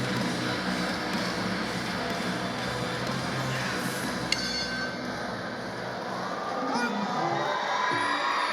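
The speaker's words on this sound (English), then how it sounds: "Crowd, of course, very much behind Zaidania." Dense arena crowd cheering and roaring throughout at a Thailand versus Singapore fight night, a loud continuous wash of voices that swells again toward the end.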